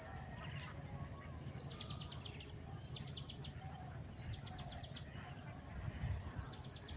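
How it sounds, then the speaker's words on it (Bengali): Faint, repeated bird chirps in short bursts over a steady outdoor background hum, distant and soft. "পাখির কিচিরমিচির আওয়াজ"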